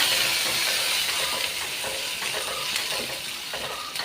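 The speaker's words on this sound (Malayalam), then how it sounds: "കുറച്ചുകൂടെ നമുക്കൊന്ന് ഇളക്കി കൊടുക്കാം" Jackfruit seeds frying in a pan with a loud, continuous sizzle and crackle, stirred close up with scattered scraping clicks throughout.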